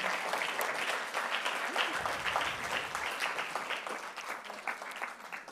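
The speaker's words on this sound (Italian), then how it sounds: "invitiamo con un grande applauso a raggiungermi sul palco" Audience applause at a nature film festival event welcoming a guest to the stage, steady dense clapping sustained throughout at moderate distance with no talk.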